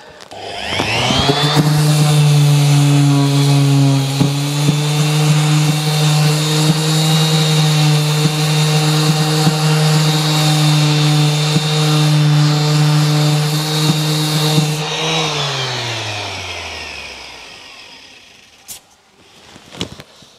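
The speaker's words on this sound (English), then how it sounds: "I'll get started first by going up and sanding back some of that material" A power sander works over filler packed into deep cracks, a loud, steady motor whine that runs continuously for about fourteen seconds before winding down and stopping, with faint clatter afterward.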